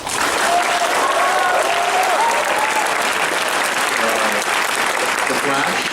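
Audience applause at a San Diego Comic-Con 2013 panel on DC Comics villains: dense, steady clapping from a large crowd through the whole span, with a few scattered voices and whoops riding on top.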